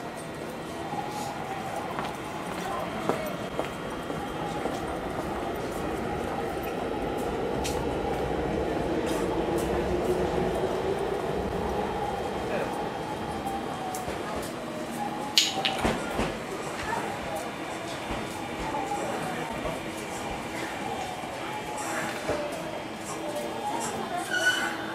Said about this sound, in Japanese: 11番線に電車が参ります。